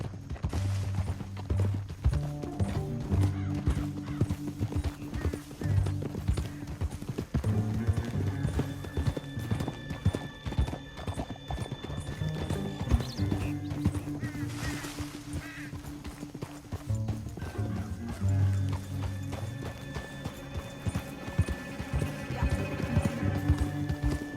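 Horse hooves pound in a fast, continuous galloping rhythm under a swelling musical score in Red Dead Redemption II, loud and close throughout.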